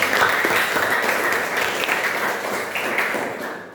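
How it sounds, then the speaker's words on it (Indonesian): Classroom of vocational high school students applauding together for good answers in an artificial intelligence lesson, a dense steady wash of clapping that fades out at the end. "Tepuk tangan dulu buat kalian"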